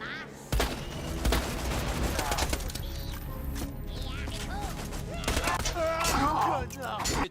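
Gunfire in the video game Borderlands 2 crackles as repeated sharp shots and bursts under a dense game soundtrack, with someone speaking over the action.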